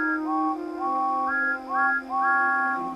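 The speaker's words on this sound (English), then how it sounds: "sounded their whistles as loudly as they could" Toy steam engine whistles blow loudly and repeatedly: a run of bright, multi-toned whistle blasts that rise in pitch in quick succession over about three seconds, close and clear with no talking.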